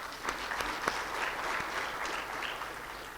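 An audience claps for presenters at a plenary session on reproductive health care, producing steady, dense applause of many hands that continues evenly across the whole stretch without talk.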